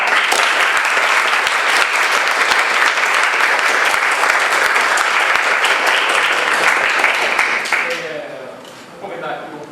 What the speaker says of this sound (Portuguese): primeiro a salva de palmas.